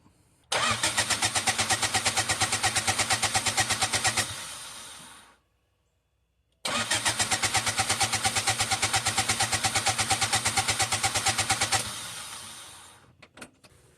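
Turbocharged Honda Civic engine cranked over without firing: two long bursts of rapid, rhythmic starter churning, nearby and loud, separated by a short silence, followed by a few faint clicks.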